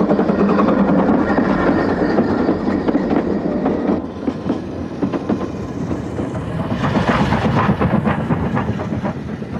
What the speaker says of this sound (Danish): lyden af et prustende damplokomotiv var en del af hverdagens lydbillede